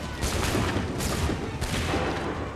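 Soldiers fire a massed musket volley in the video game Assassin's Creed 3, heard as a loud, continuous crackling roar of overlapping shots with several sharper surges.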